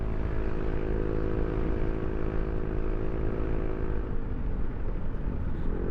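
Honda ADV 160 motor scooter climbing an uphill road with a passenger aboard, its engine droning steadily and loudly close by, a constant hum with no talk over it.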